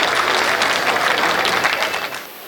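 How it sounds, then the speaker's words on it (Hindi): Loud, dense applause from a large crowd in a pavilion at a poetry recital, sustained clapping that starts to fade near the end. "एक बार मेरे इस कथन पर आप जोरदार तालियां बजाएं"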